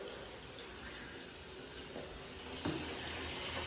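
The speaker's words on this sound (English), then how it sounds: "Put that on the tap, fill up a bucket with clean water." Water runs steadily from a tap into a bucket, a faint continuous hiss and splash with a few soft knocks.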